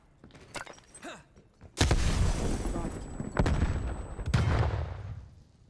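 Several sharp blasts go off in a Call of Duty: Black Ops Cold War Search & Destroy round, loud booms with rumbling tails, one big detonation followed by two more, after faint thuds and a brief voice.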